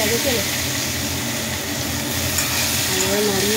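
Panch phoron and mango pieces sizzle and get stirred in hot oil for mango chutney, a loud, steady frying hiss filling the whole stretch with a voice faintly beneath it.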